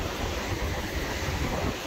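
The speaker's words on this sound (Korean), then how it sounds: "파도 센데." Strong ocean waves roar in a steady broadband wash at a cold fishing spot at high tide. The surf sounds close and loud, with wind buffeting underneath.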